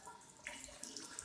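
Water pours briefly onto a cloth rag to soak it during a Yamaha DT125/DT175 bottom-end engine rebuild, a soft, faint splashing trickle lasting about a second.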